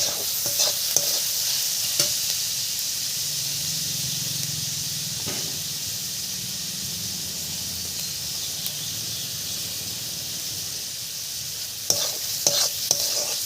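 Chopped onion and chili with turmeric and salt frying in a pan, a constant close sizzle with brief clinks and scrapes of stirring at the start and end.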